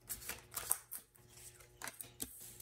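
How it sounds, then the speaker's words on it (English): Tarot cards being pulled and flicked from a deck, with several crisp, papery swipes and snaps heard close up in short bursts between quiet gaps. "I'm going to go ahead and just pull like 2 more cards for you guys"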